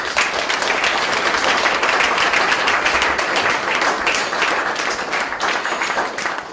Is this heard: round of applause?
yes